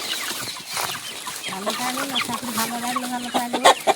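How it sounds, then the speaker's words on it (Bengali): Village chickens on Gosaba island in the Sundarbans cluck and murmur close by, with one hen's drawn-out call rising over the rest and a few sharper squawks at the end; people talk faintly in the background. "কি মুরগি এগুলো?"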